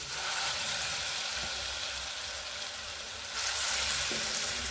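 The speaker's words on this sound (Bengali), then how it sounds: "এখন এই যে ডালের বড়া ভাজতেছি" Lentil fritters (dal bora) deep-frying in hot oil give a continuous, dense sizzle and crackle that holds steady and swells slightly toward the end, with no talk.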